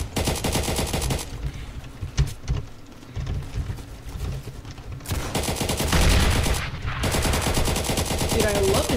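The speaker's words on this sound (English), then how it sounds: "I guess I have to shoot more bullets at the people." Rapid automatic AK rifle fire in the Roblox game Neighborhood War, loud dense bursts of shots in a near-continuous stream with a short lull midway.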